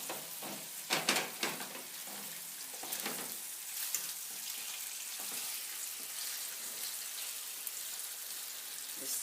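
Red snapper frying in a pan, a continuous close crackling sizzle with a few louder pops and spits early on, no talking.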